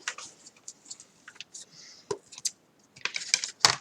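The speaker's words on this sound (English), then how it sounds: "we are going to cut a sentiment strip" Cardstock strip being cut while making a 6x6 hexagon fun fold card, heard as a sparse run of close, light clicks and snips with quiet gaps, a denser burst near the end.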